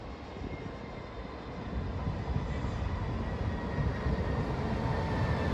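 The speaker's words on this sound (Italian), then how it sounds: "Il treno regionale di Trenitalia proveniente da diretto Venezia Santa Lucia delle ore 14:36 e in arrivo al binario 3" A Trenitalia regional train pulls into Venezia Mestre station with a steady, heavy low rumble that builds gradually and stays loud and continuous, without any voices.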